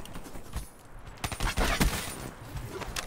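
Rapid gunfire in Black Ops 3, a short dense burst of automatic shots that swells in the middle, fairly loud, with no talking over it.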